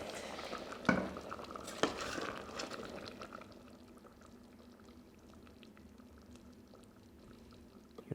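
Thick Japanese curry sauce is spooned over steamed rice: two clear scrapes of a spoon against the dish, then a soft, wet pouring and slopping that settles into a quiet near-silence.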